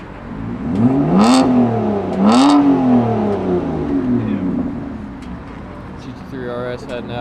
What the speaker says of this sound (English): GT3 RS heading out, along with like everybody else